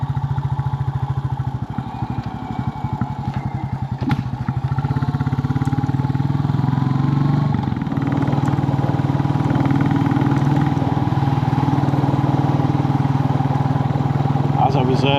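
Royal Enfield Bullet 350 single-cylinder engine on the move, a steady loud thumping drone with a rapid pulsing beat that smooths into a continuous hum with wind rush while riding along.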